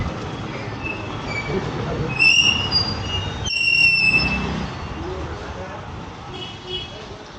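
Train at a railway station in Tirur, Malappuram, Kerala, a rumbling rolling noise with high metallic wheel squeals and a sharp clunk partway through, moderately close.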